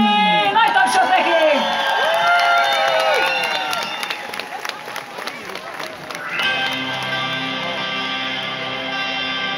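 Festival crowd at Sárköz Fest cheers, whoops and claps for a band, loud and dense at first, then the roar thins as chatter and music take over near the end.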